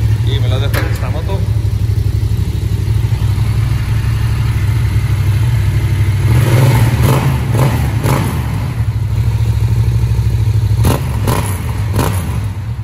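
A Honda CBX 550 motorcycle runs indoors in a closed space, giving a loud, steady low engine rumble that swells briefly with revving and a few sharp clicks and knocks.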